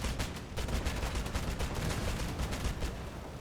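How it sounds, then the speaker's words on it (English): Rapid, continuous automatic gunfire in the vehicle combat game Crossout, with dense, evenly spaced shots sounding close and loud throughout. "I'm trying to shoot above them"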